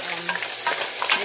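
Sautéed mussels sizzle steadily in a pan as they are stirred, with soft scraping and bubbling crackle running throughout the short stretch, close and fairly loud, no talking.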